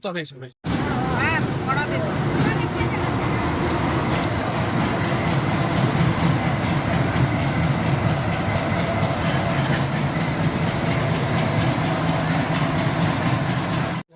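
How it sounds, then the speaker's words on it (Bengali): The Maa Tara Express train rumbles loudly and steadily as it pulls into the station, with rhythmic clacking and engine drone filling the whole stretch. "মা তারা এক্সপ্রেস ঢুকছে"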